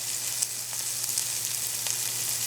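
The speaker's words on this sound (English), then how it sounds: "I'm adding my curry leaves and also some curry powder." Curry leaves and curry powder fry in a pot for a Trinidad-style curry fish with peas, giving a steady, close hiss of sizzling oil with a few faint crackles and stirring ticks, no talking.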